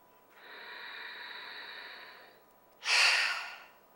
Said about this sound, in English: We want to pull all that air up through the throat.